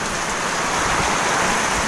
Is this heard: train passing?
no